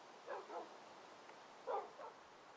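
A few short barks from dogs in the Minecraft video game come in two quick pairs, faint against a quiet background with nothing else going on.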